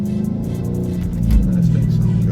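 A new car's engine hums low and steady, then revs up into a deeper, louder rumble partway through, heard from inside the vehicle.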